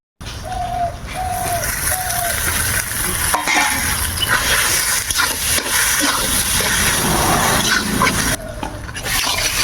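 Steady sizzling of taro stolons frying in a pan with egg and tomato, stirring scrapes running throughout, close and fairly loud, broken only by a brief pause near the end.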